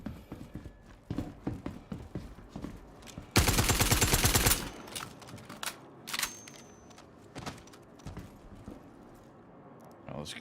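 Game gunfire in the space shooter Star Citizen: one loud burst of rapid automatic shots lasting about a second, surrounded by scattered single shots and clatter, with someone talking over it.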